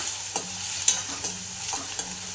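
Chilli powder, turmeric and goda masala fry in a pan while being stirred, a steady sizzle punctuated by repeated scraping clicks of a spoon against the pan, close and without talk.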